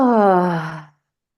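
A drawn-out yawn during a guided body-release practice: one loud, voiced exhalation with a falling pitch that fades out after about a second, followed by silence.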